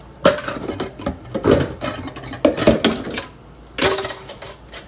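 A home dishwasher running in a kitchen, heard as irregular clattering knocks and sprays of water-driven rattling, fairly close and moderately loud with no one talking.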